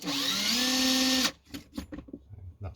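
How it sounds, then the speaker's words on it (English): A power drill spinning a 300 Win Mag cartridge case for trimming whines steadily and loudly for over a second, then cuts off. Scattered clicks and handling knocks follow. "I'm just going to use my drill"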